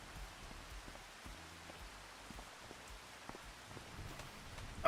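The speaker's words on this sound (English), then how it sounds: "Oh my gosh, it's raining." Steady rain from the Farming Simulator 25 video game patters softly and evenly throughout, a faint, continuous hiss of drops with no voices.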